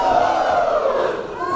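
A raucous wrestling crowd in Toronto, Canada roars and chants loudly at a live pro wrestling event, a dense, steady wall of voices.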